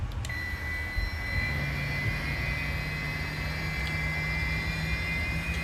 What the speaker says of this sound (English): Did you hear that difference in sound when the fuel was introduced?